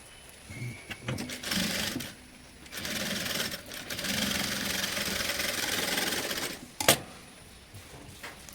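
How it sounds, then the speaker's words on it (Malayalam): A sewing machine stitches the seams of a child's top, running in a steady, fast mechanical purr for several seconds between brief stops and a few sharp clicks. "അപ്പോൾ ഈ ഒരു ഭാഗത്തും നമ്മൾ സ്റ്റിച്ച് ഇട്ട് കൊടുത്തു."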